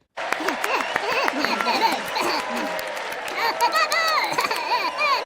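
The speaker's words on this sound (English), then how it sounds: "Y'all give yourself a round of applause" A crowd claps and cheers, with laughter and overlapping voices mixed into the steady applause, fairly close and lively throughout.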